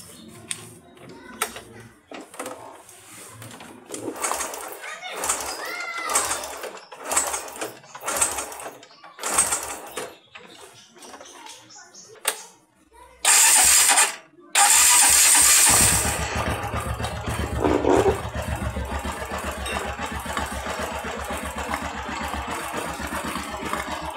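A motorcycle engine is cranked after an oil jet fitting, then fires up loudly and settles into a steady idle, preceded by someone talking and some handling noises.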